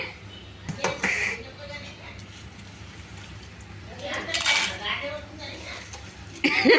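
A utensil clinks and scrapes in a pan as chillies are fried and stirred, with a few scattered metallic knocks, while people talk nearby.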